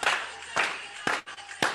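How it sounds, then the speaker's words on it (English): Several people clap together in time with a beat, a few sharp, evenly spaced claps sounding close and clear with no talking. "They got to listen to the beat, or you're going to clap off beat."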